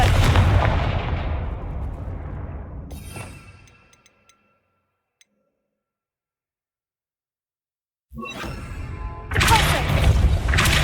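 In the Hogwarts Legacy video game, the Confringo explosion spell goes off with loud booming blasts that trail away into silence, followed by more loud rumbling effects.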